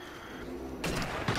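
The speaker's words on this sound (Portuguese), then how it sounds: "É muito bom dar tiro, velho, com os rifles também" Rifle gunfire in the VR shooter Sniper Elite VR: a quiet stretch, then a loud, sharp shot cracks in, followed by a second heavy blast near the end.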